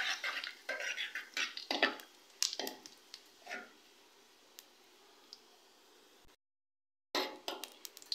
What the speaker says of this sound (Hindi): 1 चम्मच के बराबर साबुत ज़ीरा। अब हम इसे हल्का सा रोस्ट करेंगे।